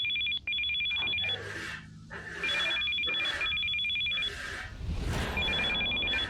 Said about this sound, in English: Why is no one picking up that phone?